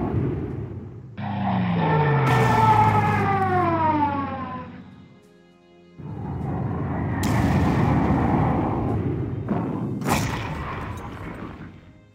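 An anti-tank unit firing in a strategy video game, long droning siren-like shot sounds with heavy booming bodies in two bursts, loud and close, separated by a brief lull, with no talking.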